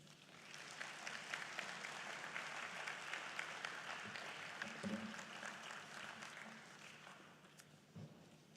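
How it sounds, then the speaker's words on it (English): Audience applause at the Intra-African Trade Fair 2023 in Cairo, a steady wash of many hands clapping that carries on for several seconds at moderate distance, with no talk over it. "Once again, another round of applause for Professor Benedict Orama"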